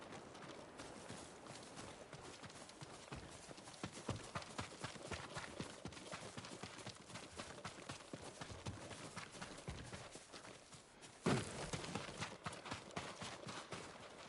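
Horse hooves clip-clop steadily in the video game Ghost of Tsushima, a quick, continuous rhythm of hoofbeats at moderate distance over ambient game sound, with a louder thud near the end.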